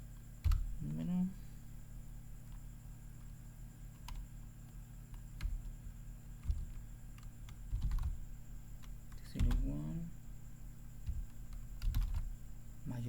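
Typing on a computer keyboard while working in a spreadsheet, with scattered clicky keystrokes and short bursts of taps close by, interrupted now and then by brief low thumps and faint talking.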